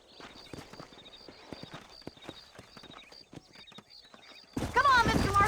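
Horses in the Red Dead Redemption video game trot with a steady clip-clop of hooves, and a loud neigh bursts in near the end.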